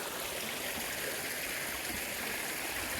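Creek water rushing and trickling steadily through a wooded creek bed, a constant broadband wash heard close with no voices.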